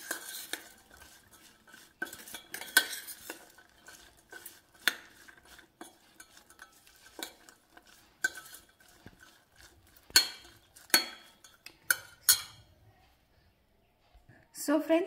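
A spoon mixes chopped onion and cucumber in a bowl, with scattered scraping and clinking strokes, some sharper knocks toward the end, fairly close and quiet, with soft talking in the background.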